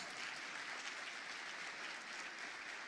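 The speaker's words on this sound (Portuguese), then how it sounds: "Uma salva de palmas para o André, que foi espetacular" Steady applause from an audience honoring André at a Brazilian sports management course forum, faint and even, a continuous wash of many hands clapping with no voices.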